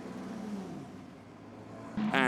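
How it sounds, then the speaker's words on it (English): A Formula Regional racing car on the Imola circuit accelerates out of the final corner, turn 19, its engine rising sharply in a loud rev at the end after a quieter stretch of distant engine rumble. "coming out of the final corner at turn 19, we now see Enzo Deligny put pedal to the metal"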